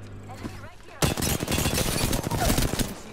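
Rapid, sustained automatic gunfire in the video game Apex Legends erupts after a quieter opening, loud and dense bursts continuing to the end with a voice speaking over the shooting.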